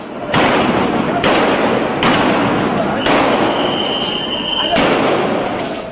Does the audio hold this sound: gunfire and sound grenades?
yes